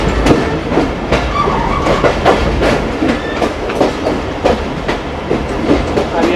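Pakistan Railways train rolling along the main line as heard from inside the guard cabin: a loud, continuous rumble with repeated clickety-clack wheel beats and occasional faint squeals.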